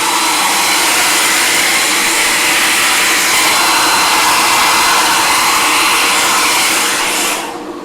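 A loud, steady hair dryer blows continuously to quick-dry paint on a Polar Lights flying saucer model kit, its broad roar holding for about seven seconds before cutting off.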